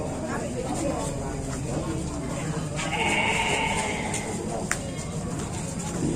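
Goats bleat at Pasar Kaliboto, a busy Indonesian livestock market, with one clear, wavering bleat rising midway above the constant murmur of a crowd and people talking nearby.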